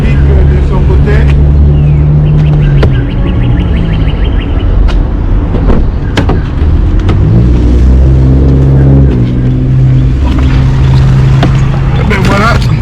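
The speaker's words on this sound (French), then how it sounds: "Je mets la voiture en marche. La voiture est en marche." A car idling steadily just after being started, its low engine rumble running throughout beneath a person talking close by, with a few clicks and faint chimes inside the cabin.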